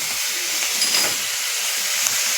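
Takla greens and soaked toor dal being sautéed with salt in a pan give a steady, close hiss of steam and frying that holds evenly throughout and stops abruptly at the end.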